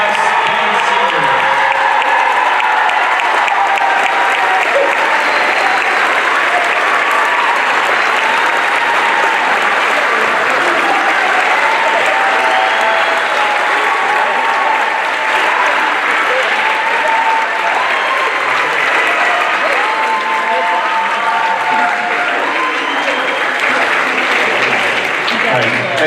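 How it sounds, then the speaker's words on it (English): A concert audience at a school band's spring concert applauds for graduating student seniors, loud sustained clapping with some cheering and crowd voices mixed in, continuing steadily throughout. "Let's give another round of applause for our 2025 student seniors"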